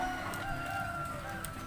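A caged Pelung rooster crows in a long, drawn-out call that runs through the whole stretch, close by with a low background murmur and no voices over it.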